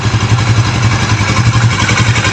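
Suzuki GSX 750 motorcycle engine running smoothly: a loud, close, steady low throb with an even mechanical pulse and a faint clatter, without talk.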